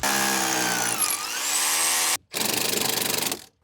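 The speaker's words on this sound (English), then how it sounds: "Hammer drill to the other side?" A hammer drill runs during house framing while anchor bolts are set. It whines loudly and shifts in pitch, cuts out briefly, then restarts with a rapid pulsing hammer buzz before stopping.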